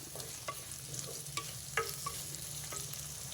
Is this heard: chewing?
no